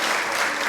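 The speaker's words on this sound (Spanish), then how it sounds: "dele un aplauso fuerte al Rey de Reyes y Señor de Señores" Church congregation at a family celebration service applauding, a brief burst of loud, dense clapping from many hands filling the room.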